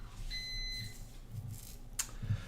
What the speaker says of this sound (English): There's the beeping sound.